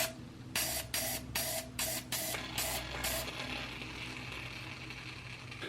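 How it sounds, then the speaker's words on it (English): Rust penetrant sprayed onto a Brompton folding bicycle, heard as a close run of about six short hissing bursts with brief gaps, fading to a faint background hum. "now we're going to spray that in there"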